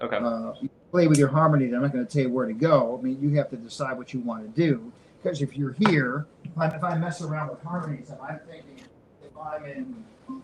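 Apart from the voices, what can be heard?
No everyday noises stand out.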